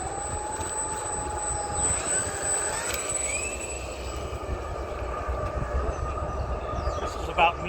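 The engine of a Rabid Models Tigercat 40 RC model airplane hums steadily outdoors, its pitch shifting slightly, with a constant whine throughout.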